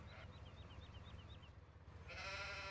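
Sheep in the video game Farming Simulator 17 bleating, a faint wavering repeated bleat in the first half over a low steady game hum, followed by a louder brighter burst of game sound near the end.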